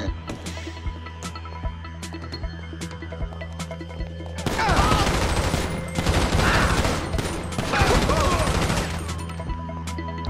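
Gunfire in Grand Theft Auto 5: a series of sharp single shots with steady background hum, then loud sustained bursts of rapid fire and clattering, close and dense, with no talk over it.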